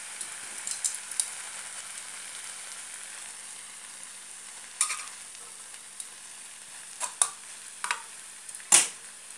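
Water spinach (kangkong) cooks in a pan for adobong kangkong, a steady soft sizzle with scattered sharp clinks and scrapes of stirring utensils, close and fairly quiet, no talking.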